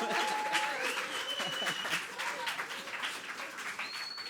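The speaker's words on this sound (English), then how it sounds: "keep that round of applause going" A concert audience in Boston applauds steadily and loudly, a dense wash of clapping with a few whoops and cheers rising above it, sustained throughout.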